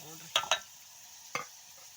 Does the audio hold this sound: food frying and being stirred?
yes